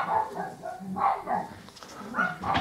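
A neighbouring dog outdoors keeps barking in a steady string of about five or six muffled, fairly distant barks, each one short and evenly spaced.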